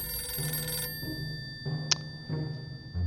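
An in-game telephone bell rings in the post-apocalyptic fallout shelter game 60 Seconds, a bright repeating ring cutting through over a quiet backdrop of low game ambience, with no one talking.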